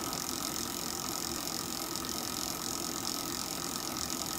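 An ultra low RPM generator spinning at under two hundred RPM: a steady, even whirring drone with a faint hum and hiss, constant and close, with no talking.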